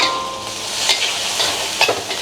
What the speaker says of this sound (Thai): และตอนเราผัดเนี่ยนะเราเร่งไฟขึ้นมา